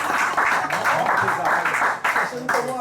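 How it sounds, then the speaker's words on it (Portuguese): A church congregation claps in applause, a dense burst of hands throughout, with voices mixed in beneath the clapping. "Aplauda o Eric, em nome de Jesus."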